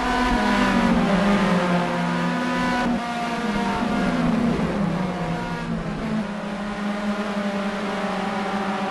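Several race cars battle wheel to wheel and bumper to bumper at a circuit racing meeting, engines droning loud and continuous with steady high revs and shifting pitch as they run close together, with no talk.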